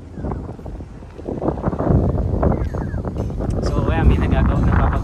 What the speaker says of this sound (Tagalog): So hangin dito